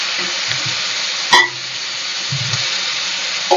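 Tomatoes sautéing in a pan for a Kannada-style bassaru: a steady, close sizzle with a sharp spatula clank partway through and light scraping stirs beneath.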